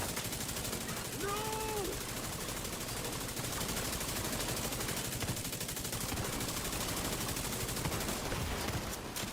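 Rapid gunfire rattles through a video game firefight in a dense, continuous barrage of shots and effects that keeps a steady loudness throughout.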